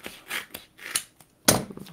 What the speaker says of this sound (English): use your scissors to cut that off